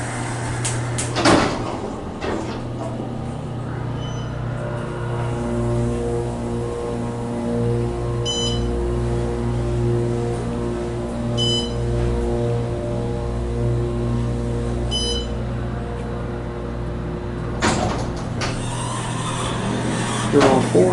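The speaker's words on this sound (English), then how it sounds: "And we're going to ride the elevators in this building." Otis Series 6 LVM elevator ride at a resort building, with a steady low hum of the moving car, a few faint chimes, and door motion thuds near the start and end, under brief talk.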